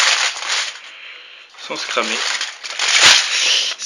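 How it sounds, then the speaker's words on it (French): Aluminium foil crinkles and rustles near and loud as it is pressed over a container while making charred cotton, with brief speech partway through. "il faut recouvrir de papier alu"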